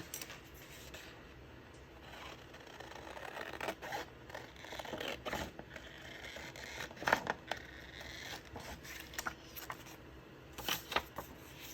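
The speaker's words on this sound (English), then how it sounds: "Let's cut this out." Scissors snip through paper for a handmade Christmas card, making irregular crisp cuts with rustling paper handling in between, close and fairly quiet, with no talking.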